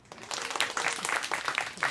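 Applause from a small live concert audience for the lighting director, a short burst of clapping that fills the room evenly before fading.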